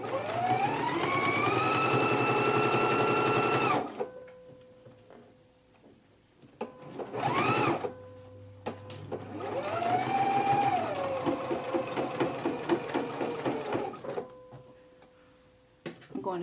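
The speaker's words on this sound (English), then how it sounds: "So let's go ahead and stitch our pockets now" A sewing machine stitches skirt pockets in bursts, a rapid mechanical whir that starts, stops and restarts with quiet gaps between runs, close and fairly loud.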